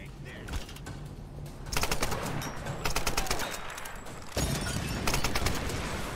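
Bursts of rapid gunfire from the video game Tomb Raider, sharp cracks clustered in several loud volleys over steady game noise, with a voice talking excitedly alongside.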